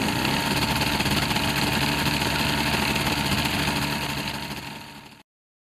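Light aircraft propeller engine idling with the throttle pulled back to minimum, a steady close drone running alone for about five seconds before cutting off abruptly.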